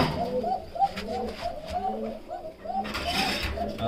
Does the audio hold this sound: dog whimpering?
no